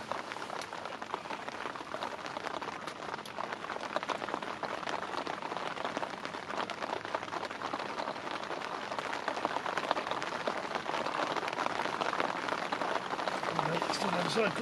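Steady rain falling at night over a carp fishing lake, a dense continuous patter of drops that holds at a constant level throughout and grows slightly heavier toward the end.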